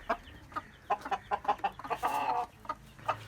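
Chickens fighting on a farm give rapid, rhythmic bursts of sharp clucks and squawks, close and loud, rising into a longer agitated cackle before dropping back to single calls.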